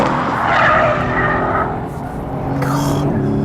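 A rear-wheel-drive Mercedes-AMG C63 S Coupe with 503 horsepower slides sideways, its tires squealing loudly and continuously over the engine's roar, close and intense throughout.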